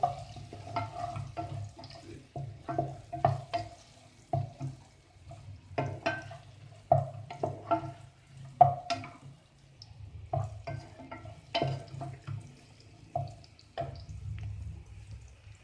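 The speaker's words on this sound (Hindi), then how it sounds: "और जीरा, काली मिर्च। इसको हम थोड़ा सा फ्राई करेंगे।" Onion frying with bay leaf, cumin and black pepper for a chicken and onion dish, a soft crackle beneath frequent knocks and scrapes of a spoon stirring in the pan.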